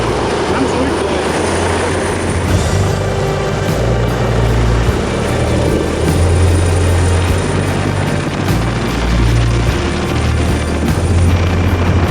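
A mountain rescue helicopter in the Alps, heard from close by as a loud, steady roar of rotor and turbine that holds without a break throughout.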